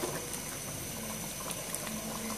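Chicken and chana dal simmer in a covered pot, a faint continuous bubbling hiss with soft liquid burbles, steady and unvoiced.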